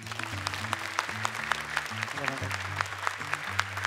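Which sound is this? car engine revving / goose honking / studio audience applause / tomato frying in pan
studio audience applause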